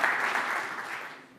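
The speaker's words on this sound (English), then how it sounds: "So please, round of applause." Brief burst of audience applause for startup pitches at a regional expo, dense clapping fading over a second and a half.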